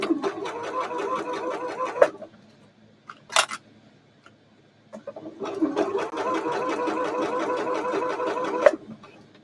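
A sewing machine stitches shirt fabric in two steady runs of rapid mechanical whirring, the first about two seconds long and the second, after a pause with a brief click, lasting nearly three seconds.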